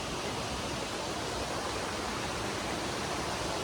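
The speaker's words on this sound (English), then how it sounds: "I do love me a good waterfall" Waterfall in the Scottish wilds, a dense unbroken roar of falling water, loud and close, steady throughout with no voices.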